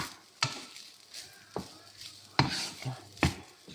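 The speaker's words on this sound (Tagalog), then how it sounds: "Mix lang natin ng mabuti para nga yung kanin ay maging yellow." Rice with turmeric powder being stirred in a pan, a few scraping, clinking strokes of a utensil against the pan spaced irregularly, close and fairly quiet, with faint sizzling between.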